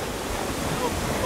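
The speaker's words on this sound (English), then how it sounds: "It's like the wind picked up a little bit though." Wind gusting over the microphone at a beach, blended with the rush of waves in a loud, continuous, noisy roar that lasts only a moment.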